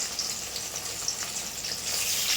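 Catla fish frying in a pan, a steady hiss and crackle of hot oil running evenly throughout, close and fairly loud, with no voices.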